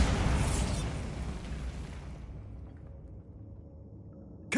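A Bombarda spell explosion in the video game Hogwarts Legacy: one loud, broad blast that rolls into a long, fading rumble over about two seconds, with a sharp new burst cutting in at the very end.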